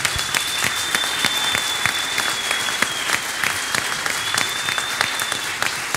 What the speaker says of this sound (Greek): Δώστε σας παρακαλώ ένα δυνατό χειροκρότημα